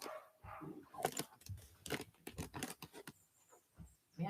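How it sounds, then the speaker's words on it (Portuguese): A small female dog makes quick, scattered yaps and barks indoors, some short and sharp, others softer, fairly faint and close, with no talk over them. "A cachorrinha aqui estava fazendo barulho."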